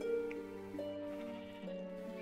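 Sheep in the Minecraft video game bleat several times in a row, each call a wavering sustained tone, fairly quiet and heard alone without talk.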